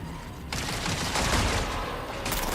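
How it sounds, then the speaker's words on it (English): Rapid gunfire rattles through a video game firefight, a sustained burst of shots lasting most of the moment, moderately loud after a quieter lead-in, with no talking. "Are those people shooting at me?"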